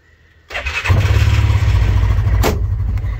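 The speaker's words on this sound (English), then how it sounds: "750cc single cylinder 5-valve. So it's got a unique sound." Cub Cadet Challenger MX750 UTV with a 750cc single-cylinder five-valve engine starts up after a brief whir, then settles into a loud, close, steady low idle with a throbbing pulse.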